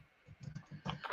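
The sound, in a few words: typing on a computer keyboard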